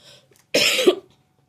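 A single sharp cough, close and fairly loud, breaking a near-silent moment.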